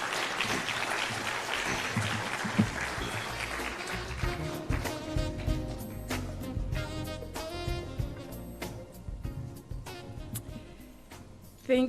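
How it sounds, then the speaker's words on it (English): Audience applause for the Deputy Chief Justice at the Chief Justice Raymond Zondo farewell dinner, a steady crowd clapping over twelve seconds with music-like tones mixed in, moderately loud throughout. "Let's give the Deputy Chief Justice a round of applause as she comes up to the stage."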